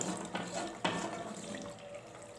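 Hot water splashes and pours steadily into a cooking pot of orzo pasta, close and continuous with a few sharper splashes early on.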